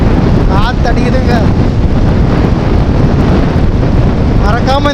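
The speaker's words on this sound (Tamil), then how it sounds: "காற்று அடிக்குதுங்க." Wind blows on a roadside and buffets the microphone in a loud, continuous rushing roar for the whole stretch, with a few faint chirping tones briefly rising above it.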